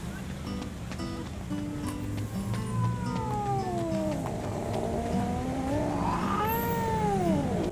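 A cat in the DreadOut 2 video game lets out several drawn-out, wavering meows over a constant low background hum, growing louder and higher toward the end.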